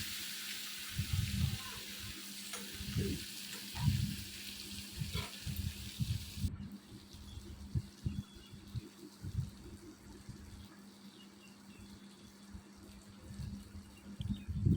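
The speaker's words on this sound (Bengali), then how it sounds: "এখন সব সবজিগুলো খুব সুন্দর করে একটু নেড়ে চেড়ে মিশিয়ে নিচ্ছি তেলের সঙ্গে।" Vegetables for a Malabar spinach and prawn dish being stirred in hot oil, giving a faint, soft sizzle with irregular low spatula knocks and scrapes close by.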